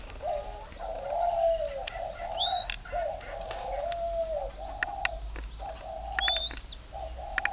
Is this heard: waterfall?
no